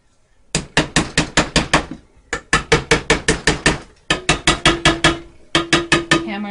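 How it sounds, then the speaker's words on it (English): Hammer blows drive a lid back onto a paint can in four quick rapid-fire bursts of about six sharp metallic strikes each, loud and close with a ringing clank. "Hammer it down."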